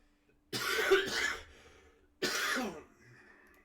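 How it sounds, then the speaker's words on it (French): Two bursts of human coughing, the first a harsh double cough and the second a single strong cough, sound close and loud with brief pauses between them. "Attendez 2 secondes, je vais tousser."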